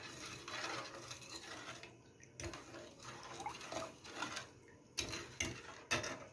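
A spoon stirs sugar and water syrup in a pot for kunafa, soft scraping and clinking against the metal in an uneven rhythm, faint and close, with no talk.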